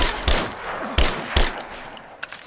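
Shots ring out in a Rise of the Tomb Raider firefight: three loud, separate cracks in the first second and a half, then quieter rumble with one faint, distant pop near the end.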